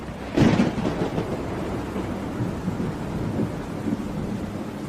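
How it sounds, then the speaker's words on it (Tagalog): A night thunderstorm: a loud, close thunderclap bursts near the start, then rumbles on under heavy, steady rain pouring down. "ang lakas po ng kulog at kidlat, no?"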